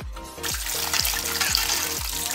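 Chopped fenugreek leaves are swished around in a bowl of water, producing a steady wet sloshing with a rhythmic low surge about every half second, close and moderately loud, with no talking.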